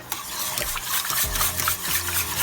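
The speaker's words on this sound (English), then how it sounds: "And we're gonna stir, stir, stir, stir, stir" A spoon stirring banana pudding custard thickened with custard powder in a pot over high heat, with steady repeated scraping and light bubbling close up and no talking.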